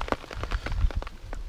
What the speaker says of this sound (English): Oh, a few drops of rain.